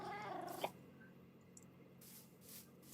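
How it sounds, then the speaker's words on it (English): A cat in the video game Minecraft gives a short meow-like call early on, followed by quieter faint game sounds and soft background noise, with no talk. "See, there's a kitty cat right there."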